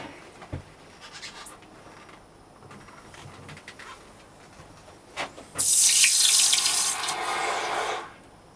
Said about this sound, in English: Right, let's get him in for the quench.